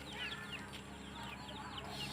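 Chickens cluck and chirp in a busy rapid chatter across the flock on a farm, steady and moderately loud against a low background hum.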